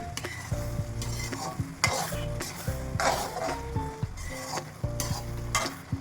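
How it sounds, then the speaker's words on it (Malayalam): Carrot halwa with ghee is stirred in a pan, with rhythmic scraping strokes of a spoon against metal every second or so over a steady close sizzle and occasional utensil clinks. "ഇനി നമുക്കിതിലേക്ക് കുറച്ച് നെയ്യ് ചേർത്ത് കൊടുക്കാം നെയ്യ് ചേർത്ത് കൊടുത്ത ശേഷം ഇത് നല്ലതുപോലെ ഒന്ന് ഇളക്കി കൊടുക്കാം"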